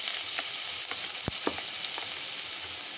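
Chopped onion and green chili sizzle steadily in hot oil, a dense close crackle with a few sharper pops and stirring clicks, no voices over it.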